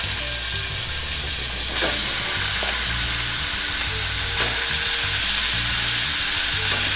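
Meat fries in a pan with a little oil, a loud, steady close-up sizzle with occasional scraping stir sounds and clunks from the pan, no talking.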